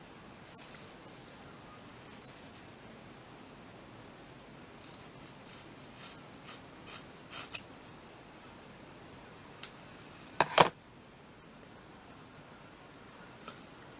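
Scissors snip straight along a length of hair in a run of short, close, fairly soft cuts, closing with a sharper pair of snips, with no talking.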